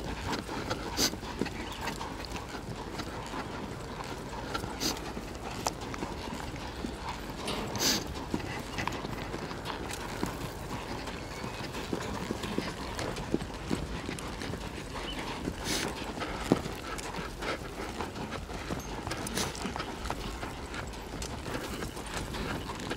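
Horse hooves clip-clop steadily and evenly during a ground riding exercise as the horse works calmly and softly, with occasional faint background sounds and no talk.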